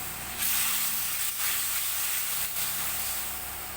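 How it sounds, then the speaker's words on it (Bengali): Spiced masala paste frying and being stirred in a pan for a fish curry, a steady close hiss and sizzle running throughout with a few brief dips. "ভালো করে মশলা কষে নিতে হবে।"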